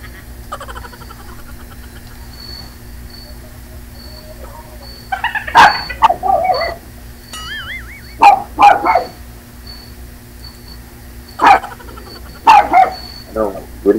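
A neighbour's dog barks in several short bursts, fairly close and loud, with people talking in between.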